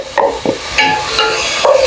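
Onion, garlic, pepper and cherry tomatoes sautéing in a pan, a close sizzle broken by quick scraping stirs and clinks over about two seconds.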